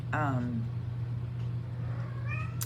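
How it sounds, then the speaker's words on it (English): A pet cat meows indoors, one drawn-out wavering cry at the start and a shorter one near the end, close and clear over a low steady hum. "Y'all hear my cat."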